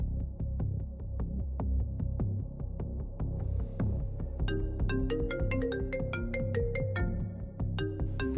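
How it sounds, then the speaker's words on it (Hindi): A mobile phone rings with a repeating electronic tone over a low throbbing hum, at first muffled, then brighter and clearer in a steady pattern, with no talking. "किसका फोन है? उठा क्यों नहीं रही?"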